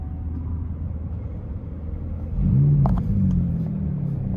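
A Lantana purple McLaren's engine rumbles low and steady from inside the cabin with windows up, then swells into a louder, deeper roar partway through.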